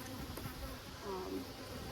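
A swarm of agitated honey bees buzzes around an open hive during hive maintenance, a steady close droning hum that fills the whole moment with no talking.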